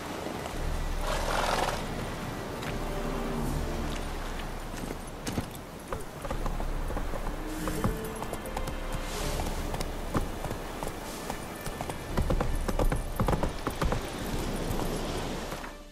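Horse hooves clip-clop steadily across ground in The Witcher 3: Wild Hunt, with a brief whinny and game ambience layered around the rhythmic footfalls.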